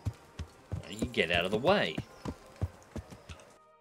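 Horse hooves clip-clopping in Kingdom Come: Deliverance, a steady walking rhythm of sharp knocks close by, with someone speaking over the middle of the sequence and the hoofbeats carrying on after he stops.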